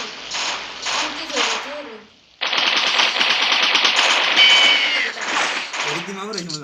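Rapid bursts of automatic gunfire from the Mini Militia mobile shooter game, dense and continuous with a short pause in the middle, while a player talks over the shooting.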